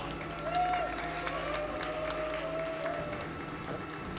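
Audience clapping at a live speedrun marathon event for a hard co-op trick in Ratchet: Deadlocked, a broad patter of applause running steadily under bright game tones and music.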